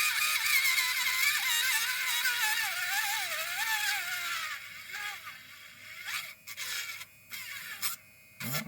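A machine shaves material off a workpiece with a loud, close, rising and falling whine that holds for several seconds, then gives way to short choppy bursts of cutting noise with gaps of quiet.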